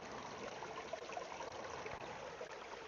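Brine trickling steadily out of the opened reservoir port of an H2go water purifier, a soft continuous running-water sound, close by and fairly quiet, with no talk.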